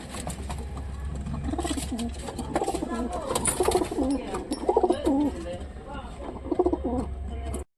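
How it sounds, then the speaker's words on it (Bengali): Pigeons coo repeatedly as they flutter down to feed, with soft, rolling calls close by and a person talking at times. "ধীরে ধীরে সব কবুতরই নামতেছে খাওয়ার জন্য"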